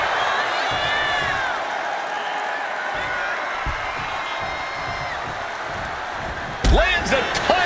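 Arena crowd noise in the wrestling video game WWE 2K25 rumbles steadily throughout, a broad roar of cheering that swells near the end with sharp slam-like impacts, heard beneath commentary.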